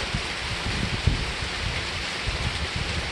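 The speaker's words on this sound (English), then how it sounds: "where it is now doing a decent rain" Steady, dense rain falls in Montford, Florida, a continuous broadband hiss with no breaks across the whole stretch and one brief louder tap partway through.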